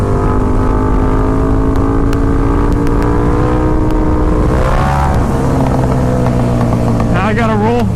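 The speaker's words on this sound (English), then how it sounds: "Go for a big third gear wheelie." Motorcycle accelerating hard through third gear in a big wheelie, the engine note climbing loud and close with wind noise, while a rider talks over it.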